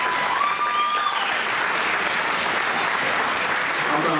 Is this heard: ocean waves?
no